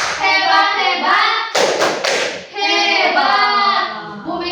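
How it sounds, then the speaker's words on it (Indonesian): A classroom audience chants in rhythm and claps together in a short burst, with group voices carrying the chant before and after the clapping. "Tepuk hebat dulu untuk Bu Mega."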